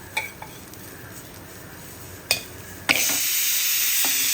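Sabudana and already-roasted peanuts stirred in a pan, with a few sharp spoon scrapes and clinks followed by a steady sizzle, close and fairly loud.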